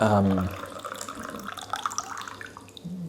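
Ripe pu'er tea is poured, a liquid trickle heard over a low hum, with a voice starting briefly and scattered small clinks as the pour tapers off.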